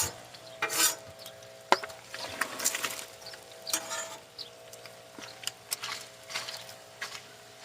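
A utensil stirs and scrapes food around in a hot pan, with soft sizzling underneath and repeated brushing strokes and occasional metallic clinks, close and steady without talking.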